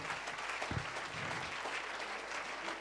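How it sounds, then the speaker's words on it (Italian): Applause for party activists at a political party festival, Berghem Fest, as a crowd claps in a dense, steady roar that holds evenly across the moment with no pauses. "vi chiedo un grande applauso per i militanti che lavorano per le nostre feste"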